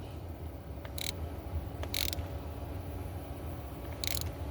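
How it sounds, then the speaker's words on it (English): A hand ratchet tightens spark plugs on a 2007 Hyundai Sonata 3.3L, with three short, sharp ratcheting bursts spaced about a second apart over steady background noise. "all I have to do now is just torque them with my ratchet."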